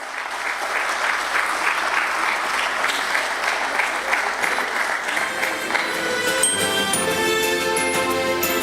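Audience applause at a stock exchange listing ceremony for Adon Agro Commodities at BSE, a loud, sustained round of clapping from a crowd that carries on for several seconds.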